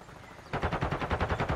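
Rapid automatic gunfire from Call of Duty: Modern Warfare II, a sudden sustained burst of evenly spaced shots that starts after a quiet half-second and rattles on loudly to the end.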